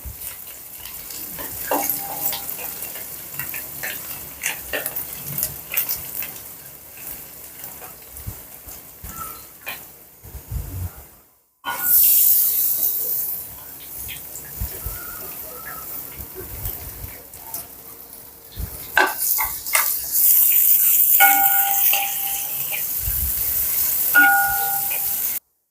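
Sliced onions fry with ginger and garlic in a pan for liver fry, an uneven crackling sizzle with stirring clatter, a brief dropout, then louder, brighter frying toward the end.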